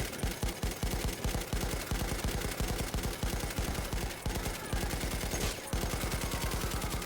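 Sustained light machine gun fire from a bipod-mounted LMG in Battlefield 1, rapid steady bursts of loud close shots running almost without pause, with only brief gaps between strings.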